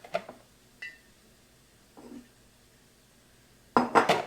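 Hot glass canning jar being handled, a few faint clinks and light knocks spaced apart, then a louder cluster of glassy rattles near the end, close by.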